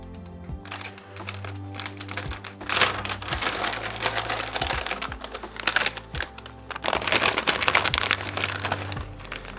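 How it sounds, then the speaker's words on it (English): A plastic bag of shredded cheese is pulled and torn open, giving close, loud crinkling and crackling in irregular bursts and rustles that continue for several seconds. "let me get the bag open"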